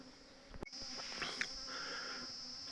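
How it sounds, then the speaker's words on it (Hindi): A captured swarm of honeybees is moved into a hive box, giving a faint steady buzzing hum with a sharp knock near the start and soft handling noises. "और जो सामने मधुमक्खियों का स्वाम हमने पकड़ा है"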